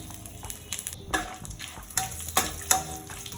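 Bay leaf, cinnamon, cardamom and dried chilli crackle in hot oil with a close, lively sizzle, punctuated by several spoon scrapes and stirring clinks, with no voices.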